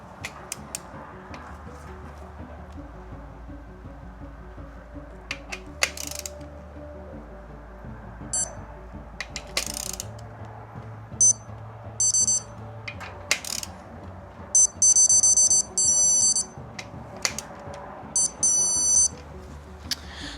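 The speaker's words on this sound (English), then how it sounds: "we're gonna go 20 foot-pounds with the digital torque wrench" A digital torque wrench set to 20 foot-pounds on a 1999-2004 Mustang GT 4.6 cam and spring upgrade gives several short electronic beep bursts, the later ones longer and steady, amid faint clicks and low hum.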